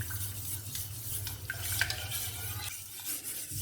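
A gelatin jelly mixture stirred in a pan, soft scraping and swirling strokes with a faint light sizzle and occasional small clinks, quiet and close with no voices.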